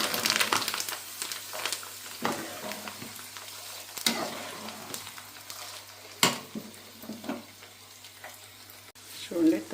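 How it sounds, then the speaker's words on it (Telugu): Garlic sizzles softly in hot oil, with the heat turned off, for a brinjal chutney tempering, while a spoon scrapes and stirs the pan in occasional sharp clinks. "వెల్లుల్లిపాయలు ఆఫ్ చేసుకున్నటువంటి ఆయిల్లో చక్కగా మగ్గుతాయి అన్నమాట"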